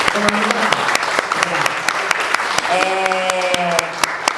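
An audience claps for Caru, a judge at a talk on urban dance and the LGBTQIAP+ community, in sustained, sharp, close applause with voices speaking over it partway through.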